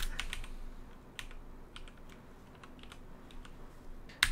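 Fingers tap out a spreadsheet formula on a computer keyboard in quick, uneven bursts of light clicks, close and fairly quiet with short pauses between keystrokes and no talking.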